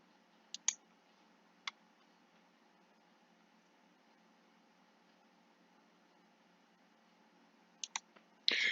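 A handful of sharp, quiet computer mouse clicks in a near-silent room, two early taps, one more a second later, then a long pause before a quick cluster of clicks at the end.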